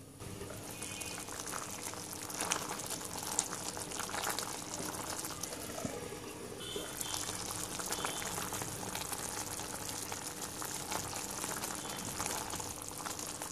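Cauliflower korma simmering under a lid, a steady bubbling boil with a continuous wet seething texture, close and moderately loud, with no talking.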